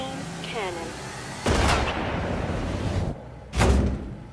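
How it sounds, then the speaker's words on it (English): A tank's main cannon in the Red vs Blue machinima fires in two heavy booming blasts about two seconds apart, each with a loud broadband burst and rumbling tail, close and prominent with no talk. "Firing main cannon."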